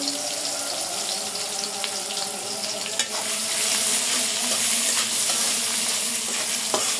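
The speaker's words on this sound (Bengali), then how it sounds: "এই তেলের ভিতরে পেঁয়াজ দিয়ে দেবো, রসুন দিয়ে দেবো।" Onion and garlic fry in hot oil in a home kitchen, a steady close sizzle with stirring scrapes and small clinks throughout, no voices.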